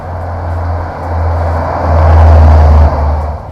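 A 2006 Subaru WRX wagon with a Prodrive add-on accelerates from inside the cabin, its low engine drone climbing steadily in pitch and loudness over a few seconds, with no talking.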